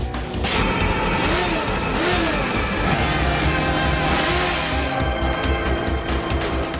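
The Tri-Chaser, a high-speed police motorcycle, revs and races amid a dense, busy background with rising engine whines and a few knocks; no voices.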